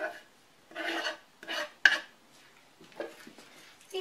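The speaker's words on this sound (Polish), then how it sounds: "i wszystko razem wymieszam" A spoon scrapes and stirs through a bowl of pierogi filling with cheese and chopped dill, in a few separate soft strokes with brief pauses and a small click, quiet and close.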